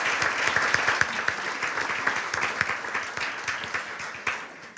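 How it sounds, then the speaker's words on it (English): Sustained audience applause at an MLK innovation leadership award ceremony in Pittsburgh, a dense crowd of clapping hands that runs steadily for several seconds and slowly thins toward the end. "So let's give another round of applause for Peyton Klein, founder."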